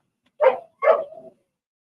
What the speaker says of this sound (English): The neighbor dog's over playing with him.